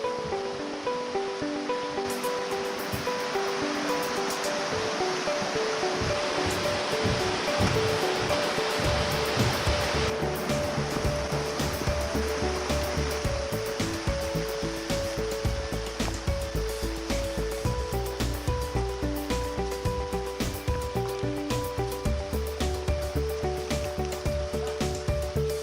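Rain falls on a hiking trail in the South Carolina foothills, a steady broad hiss that swells louder partway through and keeps going without pause.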